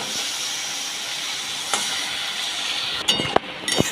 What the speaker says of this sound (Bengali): আমি এখানে দেখো জল দিয়ে দিচ্ছি